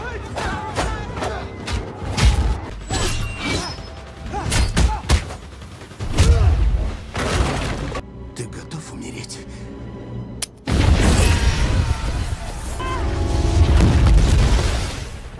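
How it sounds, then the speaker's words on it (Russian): Bomb explosion from a Marvel superhero film, a villain detonating himself after defeat: repeated heavy booms and blasts with rumbling, a brief near-silent gap, then a loud sustained explosion roar, mixed with film score and some dialogue. "лично сразился с Капитаном Америка, после поражения активировал бомбу и взорвал сам себя"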